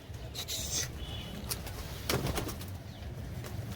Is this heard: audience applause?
no